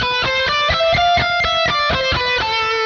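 Electric guitar picks a quick run of single notes in a repeating pattern, clear and steady, with a slightly driven tone.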